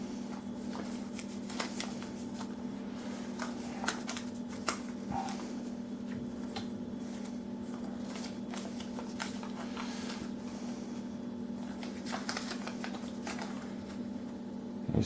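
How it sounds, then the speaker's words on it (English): Paper being unfolded and handled, a series of crisp crackles and rustles scattered over about fifteen seconds on top of a steady low hum, with no talking. "And he starts to unfold the pieces of paper."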